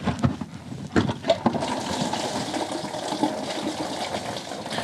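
Coolant gushing from a pulled lower radiator hose on the blown engine of a 1979 Chevy LUV pickup, splashing into a drain pan as a steady liquid pour with a few sharper splashes early on, close by.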